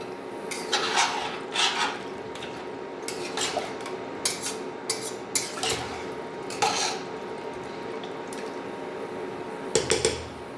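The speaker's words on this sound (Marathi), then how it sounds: "आणि सगळं एकदा हलवून घेऊया." A spoon stirs vegetable pea pulao in a pot, producing irregular scraping and soft clanking strokes against the metal with quiet pauses between them and a low background hum, no voices.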